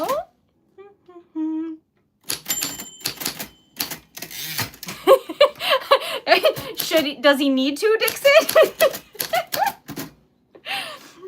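Typewriter keys clack in scattered bursts beneath a woman chatting and laughing during a livestream, the strikes close and crisp but partly masked by her voice.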